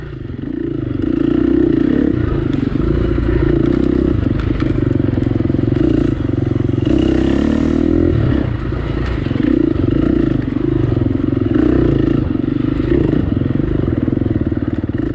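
Dirt bike engines drone loud and steady along a wide enduro trail during a sprint enduro, with constant motor hum, slight revving shifts and clattering over rough ground throughout.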